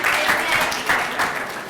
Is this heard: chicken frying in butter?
no